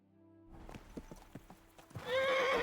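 A horse in Kingdom Come: Deliverance II clops at a walk, near and clear, then breaks into a loud, high whinny near the end, with game music underneath.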